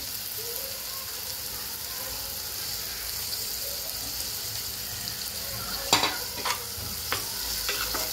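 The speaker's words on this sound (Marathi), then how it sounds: "आपण व्यवस्थित परतूया।" Squid masala with onion, tomato and kokum being sautéed in a pan, a steady soft sizzle with a few sharper scraping stirs near the end, no talking.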